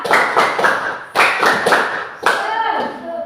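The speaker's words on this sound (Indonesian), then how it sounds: "Coba lagi, sekali lagi. Tepuk semangat." A class of schoolchildren doing a rhythmic clapping cheer: loud, close group claps in quick patterned bursts, with children's voices chanting between and over the claps.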